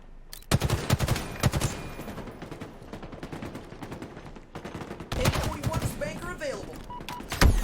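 Gunfire in the video game Bazaar during a ranked match, with sharp bursts of rapid shots clustered at the start and again near the end, fairly loud and close, with scattered single reports between.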